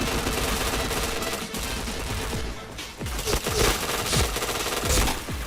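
Rapid gunfire in the PointBlank shooter game, bursts of sharp overlapping shots and automatic fire in dense succession, loud and continuous over game noise.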